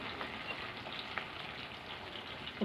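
Moong dal and raw banana curry stirred in a pan, a soft continuous frying hiss with faint scraping, steady and fairly quiet for a couple of seconds.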